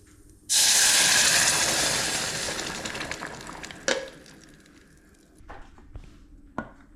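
Tomatoes drop into hot oil with mustard seeds and burst into a loud, close sizzle that slowly fades, followed by a few sharp clatters and pops.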